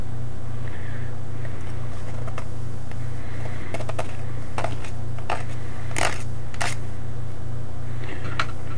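A knife blade shaving and scraping along the rim of an aluminium pop can, giving a series of short, dry scratchy strokes against a steady low hum, close and fairly quiet.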